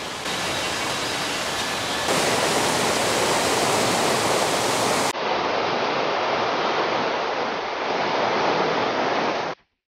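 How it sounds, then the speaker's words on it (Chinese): Hongqiao Waterfall in a forest near Mawudu roars with a loud, dense, continuous rush of falling water that fills the whole clip alone until it cuts off at the end. "到了虹桥瀑布"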